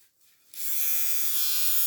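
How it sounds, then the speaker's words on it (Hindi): Vintage T9 electric hair trimmer switching on after a brief quiet moment, then a steady, close, high-pitched buzzing hum. "ये ट्रिमर एक और आ गया जी मेरे पास, विंटेज T9 ट्रिमर है"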